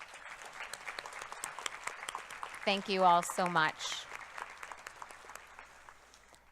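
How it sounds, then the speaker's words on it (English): Graduation ceremony audience gives a round of applause for families, a broad crackling clap that runs throughout while a speaker briefly talks over it midway. "Graduates, please join me in giving your parents, guardians, grandparents, family, and friends who supported you a big round of applause tonight."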